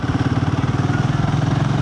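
Close, steady pulsing engine thrum from a touring motorcycle on a long non-stop highway ride, rhythmic and continuous with no talking.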